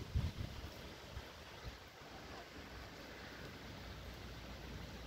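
Steady wash of small waves lapping on a windy pond by reeds in Blizhnee village, Donetsk region, with wind buffeting the microphone throughout and a louder gust at the start; nobody speaks.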